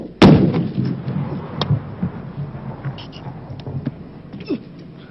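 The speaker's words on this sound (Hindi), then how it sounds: "रियल वेपन्स तो यूज हुए, लेकिन फायरिंग के लिए यूज की गई थी ब्लैंक बुलेट्स, जो कि साउंड और रिकॉइल बिल्कुल असली जैसी लगती है" Blank rounds go off from real weapons in a war film scene for the 1997 movie Border: one loud, close blast with a rolling boom, followed by scattered lighter shots and rumbling echoes.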